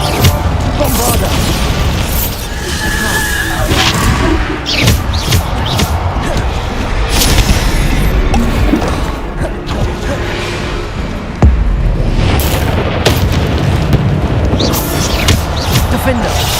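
Booming spell explosions and crashing impacts in the Hogwarts Legacy video game, a loud dense barrage of blasts and debris with game effects and voices layered throughout.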